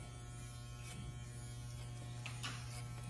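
Electric hair clippers with a number 3 guard run steadily through a boy's hair, a continuous close buzz with a strong low hum, the cutting texture shifting slightly as the blades move away from the head.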